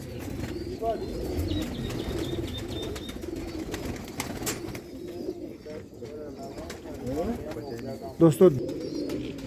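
Rare Sialkoti chuha pigeons with blue eyes coo softly on a rooftop, a low continuous murmur under someone speaking, with a few brief chirps and a wing flutter near the end.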